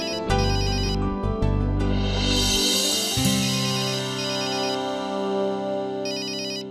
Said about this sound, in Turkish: Ha bir dakika dur telefon çalıyor.